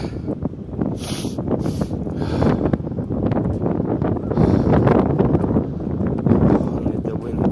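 Gusting wind buffets the microphone outdoors, a loud, rough rushing that swells and eases throughout, with faint rustling mixed in.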